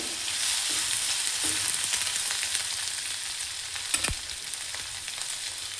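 Capsicum and tomato fry in a pan for bisi bele bath, giving a steady, close sizzle with soft stirring scrapes and a single sharper clack of a utensil near the end.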